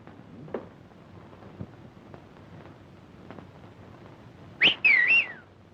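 A person whistles a short signal near the end, two bright, warbling whistle phrases in quick succession, loud and close. Before it comes a quiet stretch with faint scattered knocks, set in a 1940s Western.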